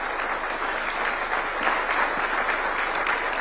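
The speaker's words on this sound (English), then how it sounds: "The Kenyan tradition is that we clap when he's coming in" Steady, dense applause from an audience at a State House event in Nairobi, Kenya, as the President enters, sustained and even throughout with no speech over it.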